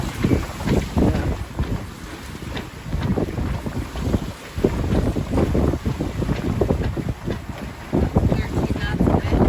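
Strong wind buffets the microphone on a heeling sailboat under sail in roughly 13 knots of breeze, a loud, gusty rumble with water rushing along the hull and faint voices underneath.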